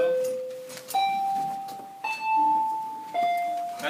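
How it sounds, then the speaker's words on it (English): A school bell plays a loud, clear sequence of sustained electronic chime tones, four steady pitches each ringing about a second before shifting to the next, close and dominant, with faint background talk. "That's just our bell."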